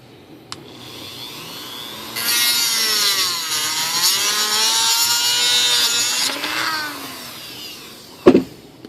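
A saw cuts steadily through part of a scratch-built Airbus A380 model's nose gear in a workshop, a close, continuous rasping stroke lasting several seconds, followed by a brief knock; no talking.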